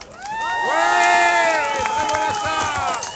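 A crowd at an ATSA evening event whoops and cheers loudly, with excited shouts and high voices rising and falling over a steady roar for about three seconds; claps are barely distinct beneath the yelling.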